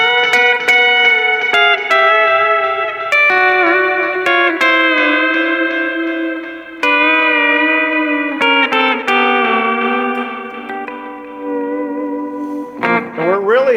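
Pedal steel guitar run through long delay and reverb, sustained chiming chords and swelling bent notes ringing out with echoing repeats, loud and alone.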